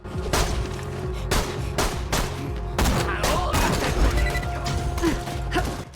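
Enemy gunfire in the video game Borderlands 2: a dense, continuous clatter of shots and impacts with several sharper bursts, loud and close throughout, mixed with mechanical clanks and game effects.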